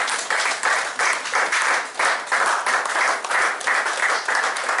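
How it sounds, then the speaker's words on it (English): Congregation in a church clapping together during a sermon, a loud, rhythmic stream of hand claps with regular pulses and almost no talking. "Can we clap for Jesus?"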